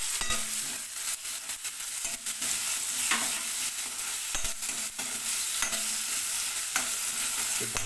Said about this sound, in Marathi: आता हे टॅमॅटो मी ॲड करत आहे त्याच्यामध्ये